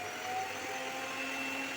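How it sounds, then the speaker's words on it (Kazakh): An electric hand mixer whirs steadily through pancake batter of milk and boiled water, a continuous close buzzing hum with no talking. "Миксермен араластырып аламын"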